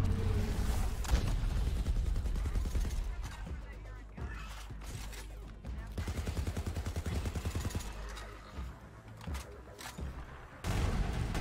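Repeated explosions and crackling blasts from grenades in Borderlands 3 with a broken grenade mod, a dense, chaotic barrage of booms and gunfire that keeps going throughout, mixed with other game noise.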